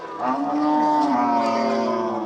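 A Friesian dairy cow at a cattle market gives a long, loud, drawn-out moo nearby, with no talking around it.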